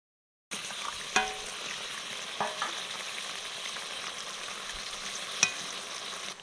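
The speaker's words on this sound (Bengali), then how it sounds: "এবার ভেজে রাখা মাছগুলো দিয়ে দেবো" Fried bok (boga) fish goes into a simmering potato curry for fish jhal, producing a steady sizzle close by, broken by a few sharp clinks and thuds as the pieces land.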